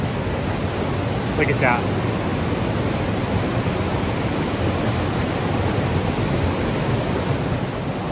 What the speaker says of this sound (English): You guys can absolutely hear the power of this stream though.